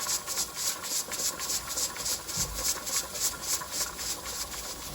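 Steam hisses steadily from the weighted pressure regulator of a pressure canner on a stove during home canning, a constant, even, fairly quiet rush with a faint low rumble underneath and no talking.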